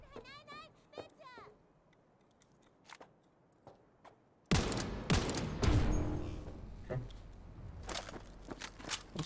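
Gunfire from the video game Cyberpunk 2077: a loud burst of rapid, overlapping shots erupts about halfway through and continues in dense volleys, after an opening stretch of quieter chirps and voice.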